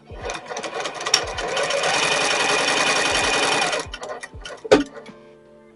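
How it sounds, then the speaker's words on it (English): A sewing machine stitches a towel topper in one steady close burst of fast mechanical chatter lasting a few seconds, followed by a few sharp clicks and knocks as it stops. "We went ahead and sewed all the way around, and now we're going to repeat on the other side"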